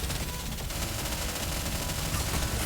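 Sustained rapid automatic gunfire from the Nikke video game, focused on a raid boss's core, forms a dense, loud, continuous barrage with no pauses.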